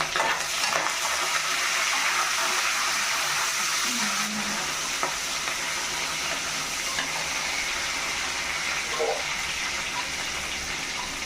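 Garlic, ginger and curry leaves fry in hot oil for a green gram vada curry, a dense continuous sizzle and crackle held close and steady throughout, with faint utensil touches and no talking.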